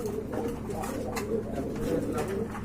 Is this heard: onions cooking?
no